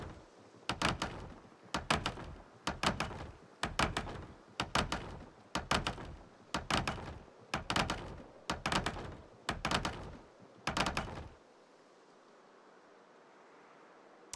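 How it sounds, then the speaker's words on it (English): A hammer bangs nails in a video game: about ten evenly spaced, hollow, knocking thuds roughly a second apart, each with a short rattle, then the banging stops and only a faint hiss remains. "I wonder if they can hear me banging on these nails"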